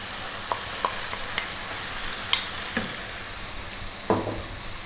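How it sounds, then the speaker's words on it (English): Cooked lentil dal is added to tomatoes cooking in a pan, a soft continuous sizzle with a few scattered sharp clinks and scrapes from stirring, no talk. "We're now going to add in 4 cups of cooked dal."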